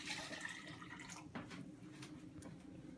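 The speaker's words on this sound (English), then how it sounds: "First, I need to put a cup of hot water" Hot water pours into a cup while making a borax activator for glitter glue slime, a steady splashing trickle with a faint running-water hiss throughout, fairly quiet and close, without speech.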